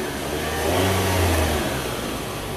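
Car engine revving as the throttle is opened, a steady mid-pitched engine note that swells briefly in the middle and then settles back toward idle, close and alone.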